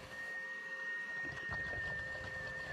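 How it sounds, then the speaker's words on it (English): A Milwaukee Fuel cordless wet vacuum drones steadily with a high, thin motor whine, its airflow rough and gurgling as it pulls up water from a tub close by. "we're using this Milwaukee Fuel vacuum to suck up"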